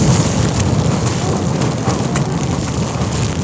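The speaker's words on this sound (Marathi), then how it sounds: "आणि असला पाऊस चालू आहे." Heavy monsoon rain pours down on the Harishchandragad trek, a dense, loud, steady roar of drops close by and heard alone throughout.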